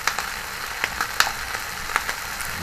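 Chicken feet frying for adobo as soy sauce goes into the pan, a steady close sizzle with soft irregular crackles and pops, no talking.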